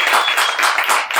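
Theatre audience applauding a contestant named Donna in a stage show, a short, close wash of many hands clapping at a steady, busy rhythm.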